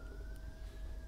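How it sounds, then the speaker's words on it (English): An ambulance siren wails faintly outside, a distant, steady tone that slowly drifts in pitch beneath low background hum. "I'll talk really loud, and we have another ambulance."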